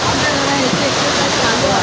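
A heavy monsoon waterfall near a forest temple in Maharashtra, roaring as a dense, continuous rush of water close by, filling the whole stretch with steady wash and gurgle while someone speaks over it.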